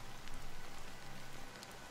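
Soft, steady rain falls in the video game Honkai: Star Rail, a quiet continuous patter of drops hitting surfaces with no speech.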